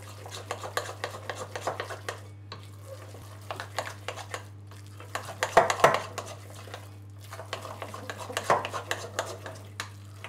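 A dense bao zi mixture is stirred in a bowl, giving repeated scraping, slapping strokes in an uneven rhythm, close by, over a steady low electrical hum.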